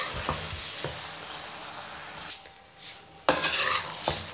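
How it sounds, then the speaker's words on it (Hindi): A spatula scrapes and clatters against a pan while cabbage and mixed vegetables are stirred for chicken macaroni, with soft sizzling underneath, a quieter pause, then a loud burst of stirring near the end. "इसको अच्छी तरह मिक्स कर लेंगे।"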